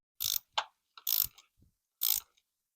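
Ratchet wrench tightening the negative battery terminal on a 2012 Honda Civic: three bursts of rapid clicking ratchet strokes, close and crisp, separated by short pauses and a few small metallic taps, with no talking.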